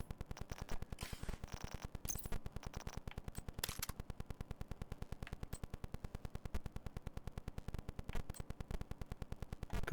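A converted SMG fires in Division 2, producing long runs of rapid automatic shots in a tight even rhythm that continue almost without a break, with a few louder bursts mixed in.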